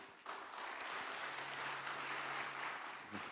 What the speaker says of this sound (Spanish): Dele una ofrenda de palmas.